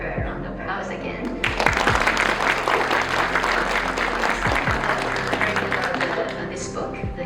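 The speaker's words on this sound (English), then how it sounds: "given him and her a round of applause again." An audience at a Buddhist lecture in a temple breaks into loud, sustained applause, dense clapping filling the room close by and holding steady before slowly thinning.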